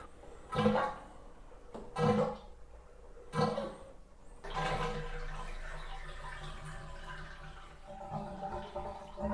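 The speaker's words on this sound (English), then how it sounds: "But we're gonna drain the tub, give it one last rinse" Water drains from a jetted tub with a steady rushing gurgle that runs continuously through the second half, preceded by a few separate splashy bursts.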